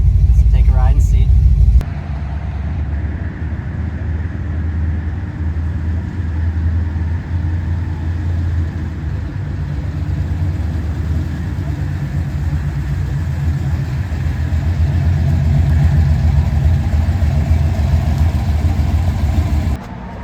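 A replica car driven on the way to a car show, its engine giving a loud, steady rumble and hum from inside the cabin that holds for about twenty seconds, with a brief noise at the start.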